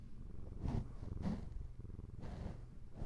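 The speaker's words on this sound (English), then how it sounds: "I wonder if you're gonna hear the purring." A cat purrs close up, a low rumbling vibration pulsing in slow rhythmic waves of breath, quiet and steady.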